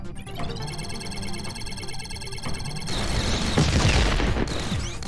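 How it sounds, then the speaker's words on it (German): Gunfire from the sci-fi VR shooter game Guns: dense rapid shots and booms rattle on steadily over a mechanical game backdrop, growing heavier toward the end, with no talking. "So, jetzt knallen wir mal hier was raus."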